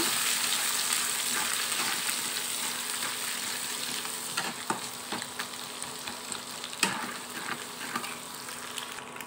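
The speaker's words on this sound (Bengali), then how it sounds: "ডিমটাকে ভেজে নেব" Steady sizzling and crackling of a salted egg frying in a hot pan, continuous and close, with a few sharper pops and clicks scattered through.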